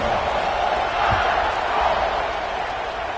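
A stadium crowd at a football game roars and cheers before the kickoff, a broad sustained wash of distant voices swelling and easing, with a thump partway through.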